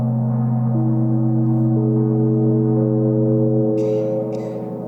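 Earth's spherical harmonics rendered as sound: low sustained synthetic tones enter one after another and stack into a droning chord, with a short hiss-like burst near the end as the sound fades.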